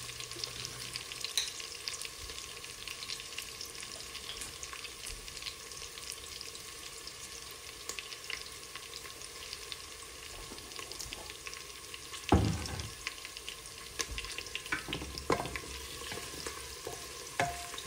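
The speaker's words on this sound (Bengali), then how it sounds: "পেঁয়াজটা একটু ভাজা ভাজা হয়ে এসেছে।" Onions fry in oil in an open pressure cooker, a steady low sizzle and crackle that runs throughout, with a louder clank of utensil against the pot partway through.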